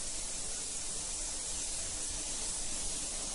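Steady, close hiss of a spray gun laying light coats of transparent pearl silver paint on a car, continuous and even throughout.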